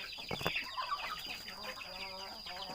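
Fighting cocks a day after a Newcastle disease vaccine injection cluck softly in a pen, several birds overlapping with short repeated calls against a steady background hiss, with no crowing.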